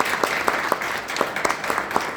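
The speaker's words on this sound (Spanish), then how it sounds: "así que le damos un aplauso" A congregation in a cathedral church gives a round of applause, a dense, even wash of many hands clapping with sharper individual claps popping out, no talk over it.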